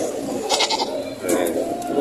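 A goat at a livestock market bleats twice amid crowd noise, close and fairly loud, with people talking in the background.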